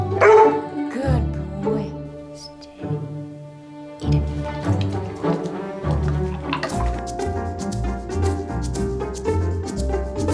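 A Labrador Retriever barks and yips in a series of short, close calls, with a few whimpering notes mixed in.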